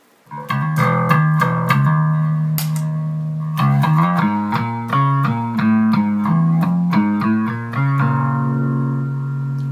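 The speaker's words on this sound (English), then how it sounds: "We go ahead and engage the Leslie." Bass notes played through a Leslie rotary speaker pedal at slow speed, a slow swirling warble on each note, with a riff of short plucked notes and sustained tones, no talking.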